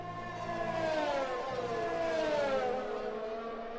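A race car laps a circuit in a racing video game, its engine a steady mid-pitched whine that rises and falls gently with gear and throttle changes, heard close and alone.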